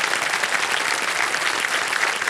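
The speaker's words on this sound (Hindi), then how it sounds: "तालियां बज जाए इनके लिए" An audience breaks into sustained, dense applause on the KBC Season 16 game show set, loud and steady throughout with no pauses.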